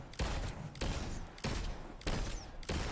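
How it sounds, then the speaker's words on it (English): Rocket sidearm fired in Destiny 2, four evenly spaced loud shots about every 0.6 seconds, each a broad thumping burst with a short tail, close and alone with no talking. "So I'm just going to shoot the rocket sidearm here"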